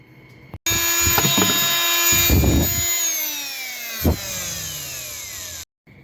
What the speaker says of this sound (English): Alright, so got a hole cut in there.